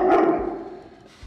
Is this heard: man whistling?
no